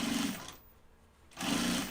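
Sewing machine stitching a fabric pocket bucket, two brief bursts of close, fast motor whirring separated by a short pause.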